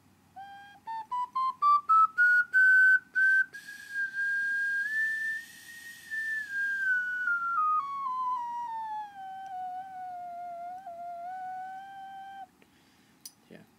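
Close and unaccompanied, a ceramic ocarina glazed in frosted turquoise and umber float with a platinum luster climbs through a quick scale of pure, airy notes, then sustains a melody that bends gently downward to a low, steady held tone.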